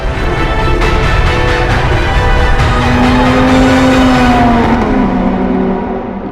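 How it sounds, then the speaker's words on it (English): Racing cars roar around a track, a loud continuous engine drone with rising and falling pitch as vehicles accelerate and pass close by, one engine sweeping audibly past near the end. "We raced cars around a track."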